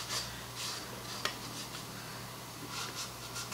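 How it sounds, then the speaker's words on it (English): A damp rag and a small flat braided scraper clean glue squeeze-out from a joint on a Depression-era wooden table, giving soft, steady rubbing and scraping strokes, close and moderately quiet, with one brief sharp tick partway through. "I'm just taking a damp rag, a little old flat braided scraper to get in there and"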